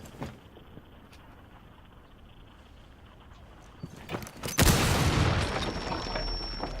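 Gunfire in the tactical shooter Rainbow Six Siege: a faint early shot, then a loud close blast followed by sustained heavy rumbling and noise, with no voices.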